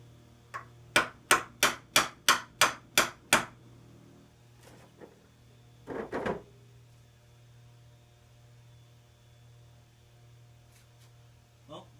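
Eight sharp metallic taps in an even rhythm knock on the engine case of a 1986–1989 Moto4 during bottom end disassembly, followed by a couple of fainter knocks and a short scraping clatter over a constant mains hum.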